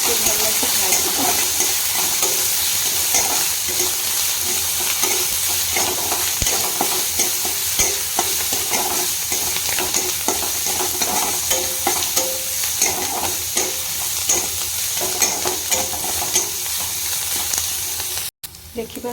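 Green, yellow and red capsicum, green chillies, curry leaves, ginger and garlic stir-fry in a hot pan, a continuous close sizzle broken by repeated scraping and tossing strokes.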